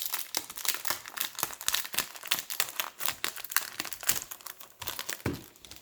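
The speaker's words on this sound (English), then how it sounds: "Okay, so I'm going to go ahead and open this paper" Paper from a Stampin' Up holiday order being unwrapped, a steady run of close crinkling and rustling with occasional small tears, quiet and alone without talk.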